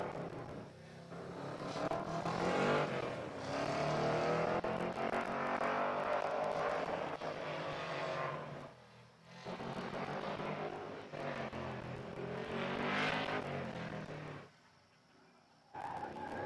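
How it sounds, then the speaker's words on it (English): A leaf-spring 1973 Camaro race car climbing a hill-climb course, its engine roaring loud and sustained through most of the run, dipping briefly at a couple of points before surging again. "I want Wheatcraft on a Leaf Spring 73 Camaro to go all the way"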